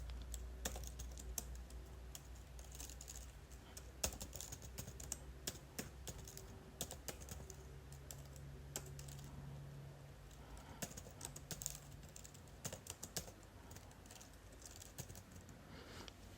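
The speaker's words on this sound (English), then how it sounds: "I'm going to type in watch AFCON" Quiet typing on a computer keyboard, a steady patter of soft key clicks with irregular rhythm running throughout, close but faint.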